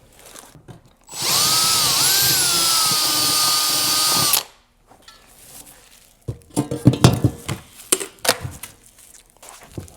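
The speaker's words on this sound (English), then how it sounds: "So we're just gonna drill this hole out a bit here." A power drill whines steadily for about three seconds, close and loud, drilling a hole in fiberglass on a 2005 Nautique 210 boat, then stops, followed by clattering handling noises.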